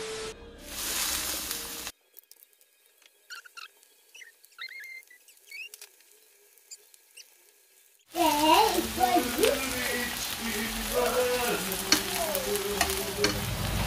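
Sliced eggplant sizzles in a frying pan, with a bright crackling patter that starts, drops away into quieter stirring clinks, then returns loud and steady for breakfast.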